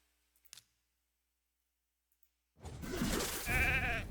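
A sheep bleats loudly from a polymorph skill in the RAID: Shadow Legends video game, a single drawn-out wavering cry that comes after a few faint clicks and a pause.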